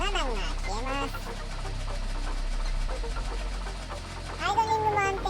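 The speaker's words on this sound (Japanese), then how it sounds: "アイドリングも安定しバランスが取れています。" A Yamaha Vmax1200 motorcycle with an engine fault and newly swapped JR8C spark plugs idles with a steady low hum beneath someone speaking close by for most of the clip.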